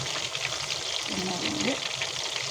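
Chicken 65 pieces frying in hot oil give off a steady, dense sizzle that stays close and even throughout, with a faint voice underneath.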